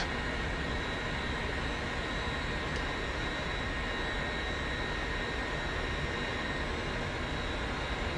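An L-39 Albatross jet in the DCS World flight simulator roars steadily through takeoff, a constant loud engine drone with a high whine and no talking.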